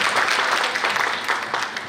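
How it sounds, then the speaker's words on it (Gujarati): An audience at a women's gathering and sarod festival claps warmly to welcome a girl, a full, even wash of many hands sustained throughout, slightly easing toward the end. "એકવાર જોરદાર તાળીથી દીકરીને વધાવો"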